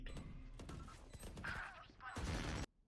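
Rapid gunfire bursts from a Valorant match on the Bind map, sharp overlapping shots through the clip ending in a final louder burst, with a voice talking over them.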